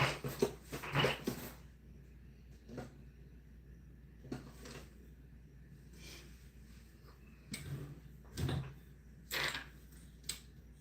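A home sewing machine stitches fabric in a few short, close bursts of mechanical whirring with pauses between them, moderately loud against a quiet room.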